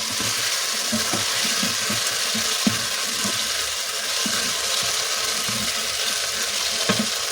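Carrots sizzling and being stirred in a frying pan while cooking a dried peas curry, a steady bright hiss with soft scraping knocks and occasional taps of the utensil, close and continuous.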